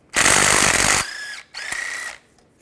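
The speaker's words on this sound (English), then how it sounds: "Now we're gonna take the two starter bolts out." A tool spins a 15 mm socket to back out starter bolts on a 2005–2010 Chevy Cobalt, two close, loud whirring bursts of about a second each with a short pause between.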